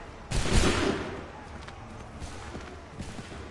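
A single loud musket volley from a line of soldiers in Assassin's Creed 3 cracks out near the start, followed by a decaying rumble and scattered faint battlefield sounds and footsteps.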